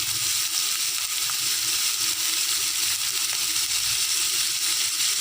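Curry leaves sautéing in a pan give a loud, steady, dense sizzle and crackle of hot oil, with faint stirring scrapes and no voices.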